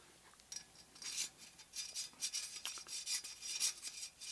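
A 3/16 parallel reamer is worked through the front axle hole of a DJH G5 model locomotive kit, making faint, close scraping and rasping strokes in an irregular run with no talk.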